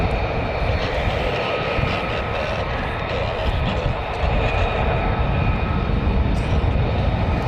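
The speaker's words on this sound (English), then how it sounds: "More F-35s coming down the other way" F-35 fighter jets passing over RAF Lakenheath, a steady, fairly distant roaring drone with a whining edge that holds throughout with little change in loudness.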